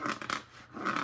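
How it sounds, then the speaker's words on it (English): Fingernails ripping plastic packaging open, a faint, close crinkly tearing and scratching in a couple of short bursts lasting about a second. "Just give me a moment while I get my nails to rip up the plastic."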